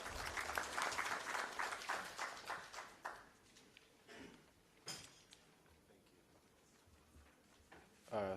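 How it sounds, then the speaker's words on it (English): An audience at an economic forum on Uganda's public debt claps as a speaker comes to the stage, the applause fading out after a few seconds into a quiet room with scattered taps and shuffles. "I will give him a round of applause as he comes"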